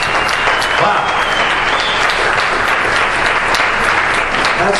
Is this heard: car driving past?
no